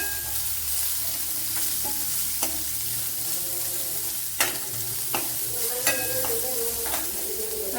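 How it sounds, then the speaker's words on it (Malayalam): Onions sauté in a pan with salt, a steady close sizzle broken by several sharp scrapes and clacks of a spoon stirring against the pan. "നമ്മുടെ ഉള്ളിയൊക്കെ ഇവിടെ വഴണ്ട് വന്നിട്ടുണ്ട്"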